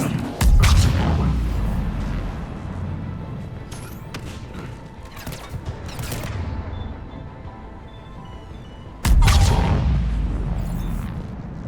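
Heavy cannon blasts and explosions boom in a Mass Effect 3 battle, two big impacts framing a stretch of rumbling gunfire and debris, with speech faintly mixed underneath.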